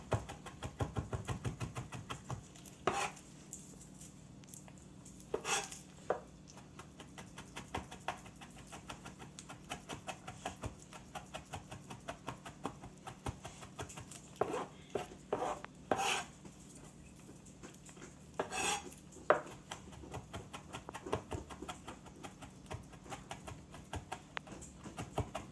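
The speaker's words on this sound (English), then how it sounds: "Right now we have like a good rough chop, but we want to take it even further to get it to a mince." A knife chops a garlic clove into a mince on a cutting board, quick irregular taps and scrapes repeating steadily at close range, fairly quiet, with no talking.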